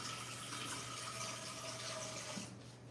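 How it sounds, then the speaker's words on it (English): Water from a kitchen tap runs steadily into a pot, a faint continuous splashing stream that cuts off near the end. "So I want to put a little bit of water in here,"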